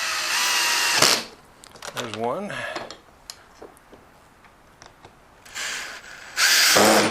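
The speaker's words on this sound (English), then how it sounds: "handy dandy Ryobi drill here." A Ryobi power drill driving caster fasteners into an evaporative cooling fan base: a loud, steady whir at the start, a short burst in the middle, and two more strong runs near the end, with a brief spoken remark between.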